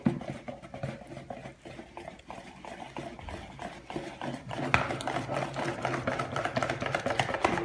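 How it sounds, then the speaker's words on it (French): Vegan pancake batter made with almond milk is whisked in a bowl, giving a faint, rapid, steady scraping and tapping rhythm that runs the whole time. "Bien mélanger au fouet."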